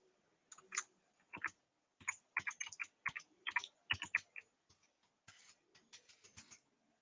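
Fingers tap out a password on a computer keyboard, a quiet, close run of irregular clicks in short bursts with brief pauses and no talking.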